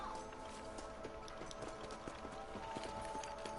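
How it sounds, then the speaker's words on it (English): Horses gallop in the western game Red Dead Redemption, a faint, continuous patter of rapid hoofbeats with a steady background hum and no talk. "Let's get back on the horses and see what else is going on."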